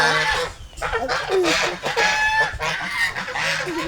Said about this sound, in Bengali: এই দেখেন হাঁস, হাঁস প্যাক করতেছে।